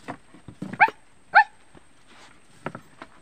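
A dog gives a few short barks and yelps outdoors, two sharper bursts standing out among quieter scattered noises and movement.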